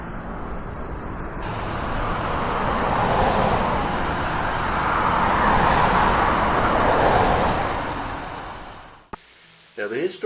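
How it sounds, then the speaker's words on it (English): Cars drive past two commercial buildings in the Pineville business district. A broad roadway rumble swells as vehicles approach and pass close by, holds for several seconds, then cuts off abruptly. "But a lot of cars come by these two buildings."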